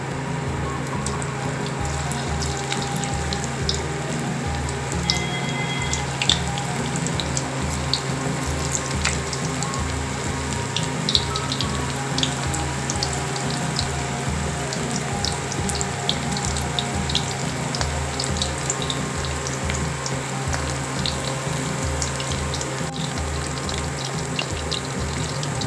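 Soya chunks (meal maker) deep fry in hot oil in a kadai, a continuous dense sizzle and bubbling hiss with small pops throughout, steady and close, no talking.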